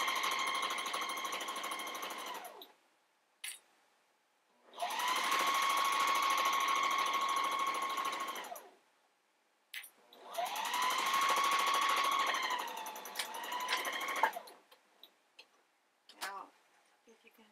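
A sewing machine chain-pieces cotton fabric and lining for a cloth diaper pod, running in three steady whirring stretches of about three seconds each, separated by short pauses and small clicks, close and fairly loud.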